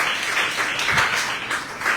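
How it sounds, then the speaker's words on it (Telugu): Sunday worshippers clap loudly in praise, a thick, sustained wave of handclaps with slight swells, close and continuous throughout. "గట్టిగా చప్పట్లు కొడుతూ ప్రభుని స్తుతిద్దాం"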